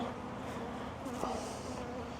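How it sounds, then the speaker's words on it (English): Buckfast honey bees at an opened hive hum steadily nearby, a continuous droning buzz with slight rises and no voices. "they're still really calm bees"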